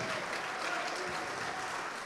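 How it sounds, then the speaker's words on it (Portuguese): A church congregation claps together in sustained, even applause, a dense wash of many hands heard at a moderate distance with no clear gaps. "Vamos aplaudir mais, igreja."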